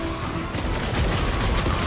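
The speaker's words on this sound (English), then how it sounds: "Want to see some fireworks?" Gunfire in the Marvel's Guardians of the Galaxy video game: a dense, continuous barrage of rapid shots and blasts, loud and unbroken, filling the whole stretch with little talk.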